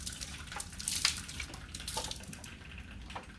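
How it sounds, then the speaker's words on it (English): Running water rinsing a pot cover at a kitchen sink while cooking curry chicken, a faint steady splash with brief louder gushes. "Wash off the pot cover."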